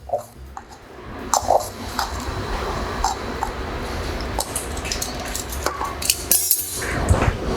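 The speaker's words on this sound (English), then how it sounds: "We're gonna whisk those together" Flour and baking powder whisked together in a bowl, a continuous close rustling swish with light clinks of the whisk against the sides, moderately loud, no talking.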